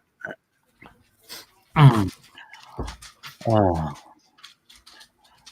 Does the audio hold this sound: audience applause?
no